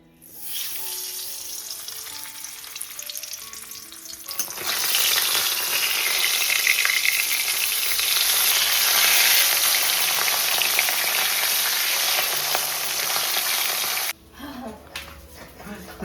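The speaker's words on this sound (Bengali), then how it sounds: "আগে মাছটা ভাজতে দিয়ে দিই। আগে মাছটা একটু গায়ে হলুদ করে দিই" Turmeric-coated fish fries in hot oil as a loud, steady, broad sizzle that swells in and holds for about ten seconds before cutting off sharply, with quieter kitchen sounds before and after.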